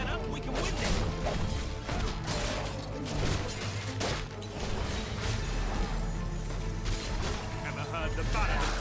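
Repeated smashing and whacking blows as a fighter wielding a lute shatters undead skulls in Fable III, set amid a constant loud din of combat and music.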